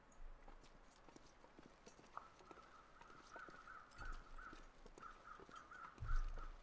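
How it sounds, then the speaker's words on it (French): Crows caw in a snowy wilderness in The Long Dark, a string of repeated harsh calls from one bird at mid distance over faint wind and footstep crunches, with a low thump near the end. "Des corbeaux."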